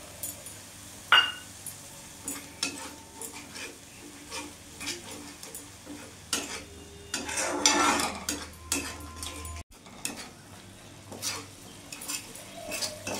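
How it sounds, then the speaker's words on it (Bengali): Mustard-poppy paste masala with Kashmiri chili powder being stirred in a pan, a spoon repeatedly scraping and clinking against metal in irregular strokes over a faint sizzle, close up with no talking. "ভালো করে নাড়াচাড়া করে নেব"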